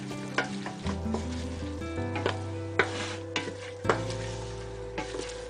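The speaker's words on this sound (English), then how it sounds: "Give this a stir." Food being stirred in an oil-free pan for a vegan lentil dish, with soft scraping and light sizzling, a few sharper spoon knocks against the pan over a steady low hum, no talking.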